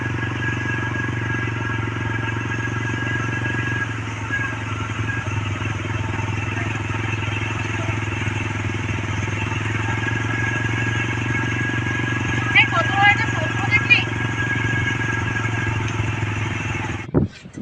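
A motorcycle engine hums steadily while riding near Bagda Beach, a constant low drone with a few clattering bumps toward the end.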